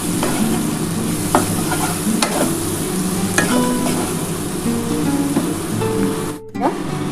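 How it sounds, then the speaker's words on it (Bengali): Spice paste with ginger, cumin, green chilli and a pinch of sugar is fried and stirred in oil for a tilapia and potato curry, with a loud continuous sizzle broken by regular scraping strokes of a spatula and a brief drop near the end. "দিয়ে ভালো করে এটাকে কষিয়ে নিতে হবে"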